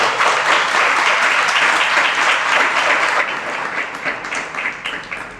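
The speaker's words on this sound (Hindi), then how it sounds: "ताली क्यों बजा दी?" Dense applause from a seated audience at a Jain monk's religious discourse, steady and loud for several seconds before thinning slightly toward the end, with no voices over it.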